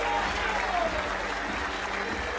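A crowd in Indianapolis applauds and cheers steadily throughout the PBA U.S. Open bowling stepladder finals, a dense, continuous wash of clapping heard from within the arena.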